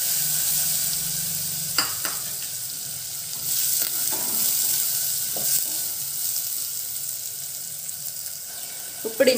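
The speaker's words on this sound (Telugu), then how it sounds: "ఇప్పుడు ఈ ఆయిల్ లోనే నేను రెండు చిన్న ఆనియన్స్ కట్ చేసి పెట్టుకున్నాను" Chopped onions frying in oil with a soft, steady sizzle, close by, broken by a few scattered clinks and scrapes of stirring.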